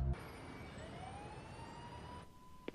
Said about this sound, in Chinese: 救护车，是。